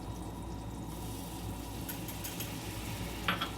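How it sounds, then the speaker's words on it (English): Flour whisked into melted, foaming butter to form a roux, a continuous soft bubbling hiss with faint scraping and a brief clink near the end, quiet and steady. "Just as the butter has melted and is reaching the foaming stage, add in the flour and whisk to blend."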